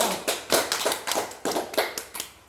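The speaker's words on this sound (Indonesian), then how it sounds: "Oke, tepuk tangan buat semuanya." A short burst of classroom applause, several hands clapping unevenly for everyone in class, close and fairly loud with no talking.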